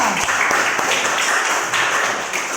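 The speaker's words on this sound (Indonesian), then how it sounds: "Oke, tepuk tangan buat kelompok 3." A classroom of students claps for a group that just presented a poster, sustained applause with a few sharper individual claps standing out, no voices on top.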